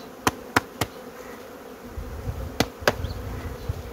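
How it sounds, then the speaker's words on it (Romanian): Honey bees hum and buzz as they are shaken off a frame from a very small spring colony, several sharp knocks from the shaking standing out over a steady low drone. "Scuturăm această albină de pe ea,"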